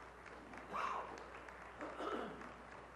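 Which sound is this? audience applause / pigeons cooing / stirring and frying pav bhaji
audience applause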